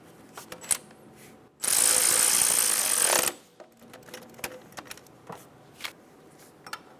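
A ratchet or power tool tightens the top bolt of an alternator on a 2007–2012 Nissan Altima, producing a loud, steady mechanical whirr for about two seconds. Scattered clicks and clanks of tool handling come before and after.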